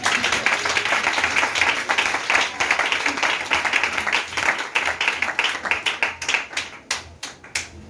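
A church congregation applauding, dense steady clapping from many hands that carries on evenly, then thins out toward the end into a few scattered claps.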